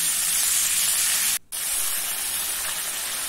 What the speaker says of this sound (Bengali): দিয়ে দিচ্ছি ধুয়ে রাখা মুগের ডাল